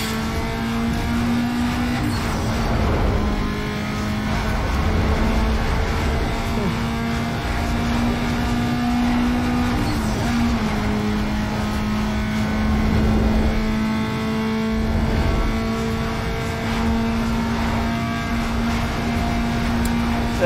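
Honda S2000 engine revving hard in a Need for Speed Underground 2 drag race, a steady loud engine drone with rising and shifting pitch across twenty seconds, with talk over it.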